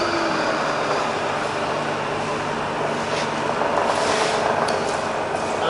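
A Bridgeport Vari-speed milling machine runs with its spindle at top speed in low range, about 260 RPM, giving a steady, even mechanical hum and whir that holds without change for several seconds, with no talk over it.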